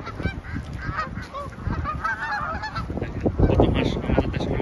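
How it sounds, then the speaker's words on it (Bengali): Ducks honking and calling near the edge of a partly frozen icy lake, a busy flock of overlapping nasal honks close by, with a little talk mixed in. "আর যে হাঁসগুলো অপর প্রান্ত থেকে দেখিয়েছিলাম, এগুলো এখন কাছ থেকে দেখানোর জন্য নিয়ে আসলাম"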